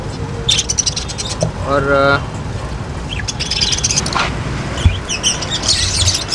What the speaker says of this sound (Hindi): अफ्रीकन लव बर्ड्स भी हैं।